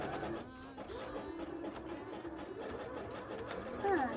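A sewing machine runs a steady zigzag stitch while a bra is being made, its mechanical whirr continuous and close, with a faint voice and a brief squeak near the end.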